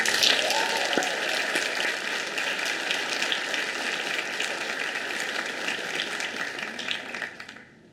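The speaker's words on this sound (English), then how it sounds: "One more round of applause." A crowd at a university excellence awards ceremony claps in a sustained round of applause, a dense steady patter that slowly thins and fades out near the end.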